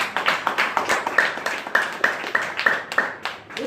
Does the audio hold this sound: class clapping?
yes